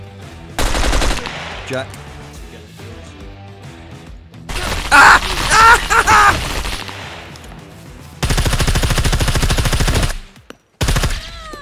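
Gunfire in the SCUM survival game: several loud automatic bursts, short rapid volleys spread across the moment with gaps between, close and sharp, with a voice briefly speaking.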